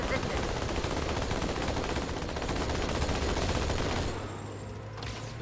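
Gunfire rattles continuously in Halo 2: Anniversary while shooting enemies, a dense rapid burst of automatic fire that stops abruptly near the end, leaving a quieter low hum.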